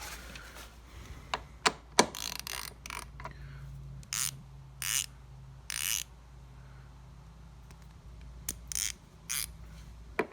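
Short socket-set ratchet turning a nut while removing a lawn mower wheel, intermittent clicking and metallic creaks in scattered bursts, close and fairly quiet.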